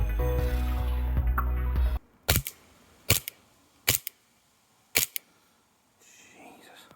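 An Army Armament R604 gas blowback airsoft pistol fires four sharp, loud cracks spaced about a second apart after a stretch of other noise, then goes quiet.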